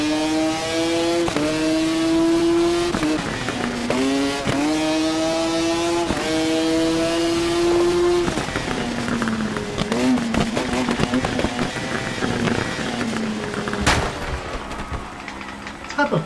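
Motorcycle racing in the video game TT Isle of Man: Ride on the Edge, a loud revving bike engine climbing through gears with repeated rising pitch sweeps and shifts, near and continuous.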